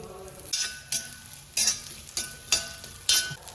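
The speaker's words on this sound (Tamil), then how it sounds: "நெய் தேங்காய் நல்லா வறுத்துருக்கோம் செவக்க வறுத்துருக்கோம்" Grated coconut roasting in ghee in an iron pan, sizzling steadily with a stirring utensil scraping in several bursts, close and fairly loud.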